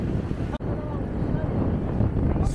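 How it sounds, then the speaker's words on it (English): Strong wind buffets the microphone in a constant low roar with a brief drop-out, while someone speaks faintly underneath, during a group road bike ride in Qatar. "Super windy today"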